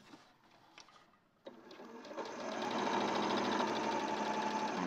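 A sewing machine stitches over a zip, starting with a few faint mechanical clicks before the motor kicks in and runs as a loud, steady whirring hum to the end.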